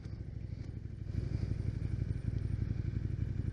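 Close motorcycle engine and stock exhaust from an Aprilia Tuono V4 1100 or KTM 1290 Super Duke, a rapid throbbing pulse that grows louder after the first second and holds steady, with no speech.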